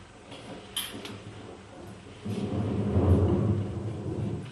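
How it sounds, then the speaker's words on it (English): Low thunder rumbles in a film's storm sound effect, a distant roll that swells into a sustained, heavier rumble in the second half, with a couple of brief sharper cracks early on. "Then my storm, thunder and lightning starts."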